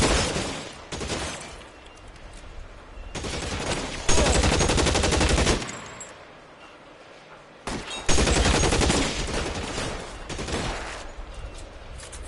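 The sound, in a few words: gunfire in a shootout in the video game L.A. Noire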